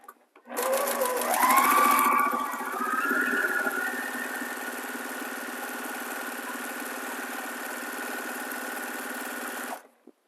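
Sewing machine stitching quilt blocks, a close, steady motor whir that rises briefly at the start and then runs evenly for several seconds before stopping.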